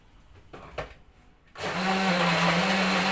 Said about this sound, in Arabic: كله في الخلاط